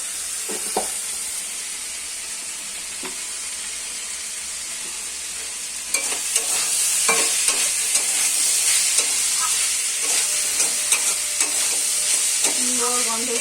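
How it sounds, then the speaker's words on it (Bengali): Vegetables frying in ghee for flattened-rice poha, giving a steady, loud sizzle and hiss that grows stronger partway through, with intermittent stirring scrapes over the bubbling. "ঘিয়ের মধ্যে সবজি ভাজতে একটা সুন্দর গন্ধ দেবে"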